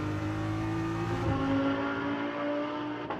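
A GT race car at Macau GT Cup practice, looping through the Donna Maria left-hander, gives a loud, close, sustained engine drone whose pitch drops briefly mid-clip before settling into a steady tone.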